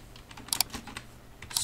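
Quick, light keystrokes on a computer keyboard as a command is typed into a Windows 10 prompt, an irregular run of close clicks with a few louder taps.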